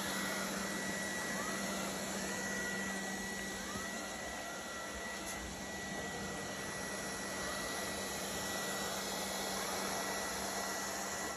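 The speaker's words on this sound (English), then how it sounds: "control all functions of this vacuum cleaner using your phone" A steady, continuous whirring drone of a robot vacuum cleaner running at an even level throughout, with a constant hum and no talking.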